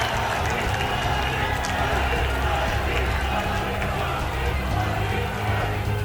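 A large outdoor crowd at a political rally applauding Prime Minister Modi, a continuous dense roar of clapping and cheering that holds steady and loud throughout.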